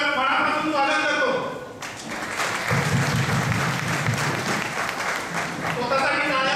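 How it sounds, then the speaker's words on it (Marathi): An audience at a motivational seminar bursts into applause, a dense wash of clapping that swells in the middle and runs for several seconds before tapering off, with a speaker's voice at the start and end. "स्वतःसाठी टाळ्या वाजवताना किती कंजूसी करतोय आपण ते लक्षात घ्या."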